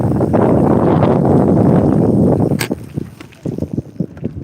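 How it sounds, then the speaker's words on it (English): A sharp, loud boom cracks out over steady wind roar, followed by scattered echoing thumps and rumbles through a valley that fade over a few seconds. "Sounded like a big explosion."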